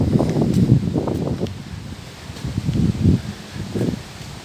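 Gusty autumn wind in Arkhipo-Osipovka on a stormy October day, rustling yellow leaves in bursts that swell and fade close to the microphone, with buffeting noise and no voices.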